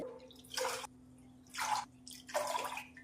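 Water is poured in three separate bursts, splashing and gurgling into a cooking pot of rice, with short pauses and a faint hum between pours.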